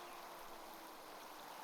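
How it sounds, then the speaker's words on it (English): Waterfall in the audio game Blind Quest – The Enchanted Castle, a steady, faint wash of rushing water with an even hiss and no breaks across the short stretch. "Waterfall."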